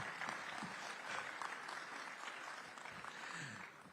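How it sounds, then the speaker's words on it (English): Audience applause at a summit event, a faint, fairly thin patter of clapping hands spread across a few seconds with some scattered louder claps. "You can be a little more generous with the applause."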